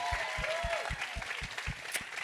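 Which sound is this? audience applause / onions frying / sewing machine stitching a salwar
audience applause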